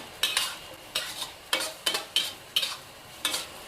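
Tofu and sweet peppers, finished with green onion, are tossed in a hot pan over medium-high heat, giving a series of brisk scraping stir strokes with a soft sizzle between them, close and fairly loud, with no talking.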